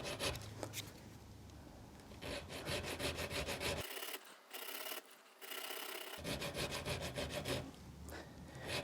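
Hand file removing metal on a 1911 ejector pin fixture, a close, steady rhythmic rasping of back-and-forth strokes that briefly thins midway before resuming.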